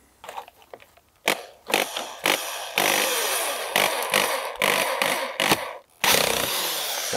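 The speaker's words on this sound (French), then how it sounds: "ça peut surprendre que je visse avec la visseuse" A cordless drill driver screwing into dense azobé hardwood for a garden bed extension, loud close whirring bursts that start and stop repeatedly with brief pauses between runs.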